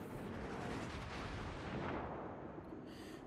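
A battleship Georgia gun salvo in World of Warships, a dense, rumbling burst of heavy cannon fire that fills the whole few seconds at steady loudness, fading slightly at the end.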